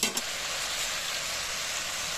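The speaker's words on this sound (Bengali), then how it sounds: "এবার আমি মশলাটা খুব সুন্দর করে ভালো করে কষিয়ে" Spices sautéing in a pan for a Bengali fish head and pumpkin curry, a steady broadband sizzle with a brief stirring clatter at the start, close and continuous throughout.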